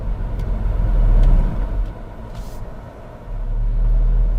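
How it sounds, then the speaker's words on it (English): A manual car's engine idles with a low, steady rumble as the revs sag below tickover during a beginner driving lesson, close and continuous with slight swells in loudness and no voices. "It wasn't so late that the car stalled, but it had started rumbling as the revs dropped below tick over."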